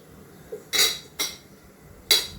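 A small metal cooker tin for steaming khaman dhokla clinks and clatters as it is handled and greased with oil in a kitchen, three or four sharp metallic knocks close by with quiet pauses between.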